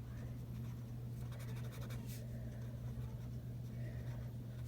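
A pen or pencil writes numbers on a number line worksheet, a faint scratchy stroke sequence over a steady low hum, with nobody speaking.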